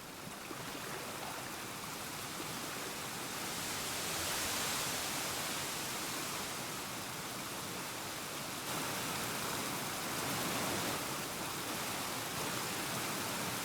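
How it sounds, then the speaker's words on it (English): Steady rushing water from a waterfall in the video game URU, a continuous broadband wash that holds at an even level throughout, with no voices over it. "let's go look over here by this waterfall"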